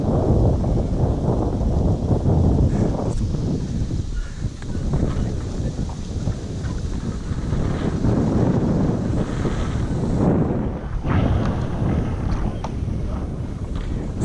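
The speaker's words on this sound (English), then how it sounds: "It's a bit windy." Strong wind blows outdoors and buffets the microphone with a loud, continuous roar that rises and falls for the whole stretch and has no clear break.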